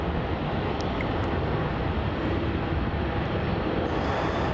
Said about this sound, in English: Do it for this Virgin Australia 737 flight to Brizzy as VA319.